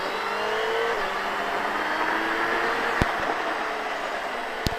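A motorcycle accelerates out of a left-hand bend on a road run, its engine a loud, steady rising drone with a couple of brief sharp clicks, no talk.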